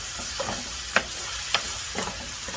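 A spatula stirs pad thai sauce of fish sauce, tamarind, sugar and rice vinegar into a hot frying pan, with a steady sizzle and a few light scraping clinks of the utensil against the pan.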